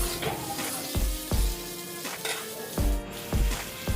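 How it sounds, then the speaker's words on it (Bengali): Vegetables with chopped papaya and ridge gourd fry and sizzle in a pan for a Bengali shukto, with several sharp spoon scrapes and knocks against the pan every half second or so over a steady hiss. "আবারও সব কিছু ভালোভাবে নেড়ে চেড়ে কিছুক্ষণ ভেজে নিচ্ছি"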